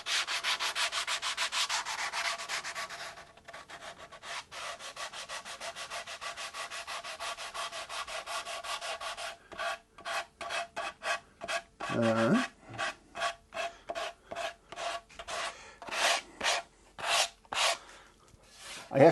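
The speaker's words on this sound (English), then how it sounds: "I have to be careful with the 180 grit. It's a bit coarse to do the edges on the mahogany." Sandpaper of 180 grit rubs across the mahogany body of a guitar, first in a fast continuous scrubbing, then after a pause in slower, separate back-and-forth strokes, close and fairly quiet.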